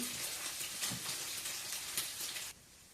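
Pork fat cracklings frying in a pan give a dense, steady, rain-like sizzle with small crackles throughout, then the hiss suddenly drops to a much quieter simmer near the end; no talking.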